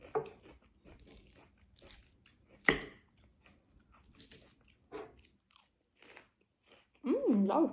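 Crunchy bites and chewing on a bone-in ribeye steak, a few sharp close crunches spread through otherwise quiet moments, with a brief burst of other noise at the end.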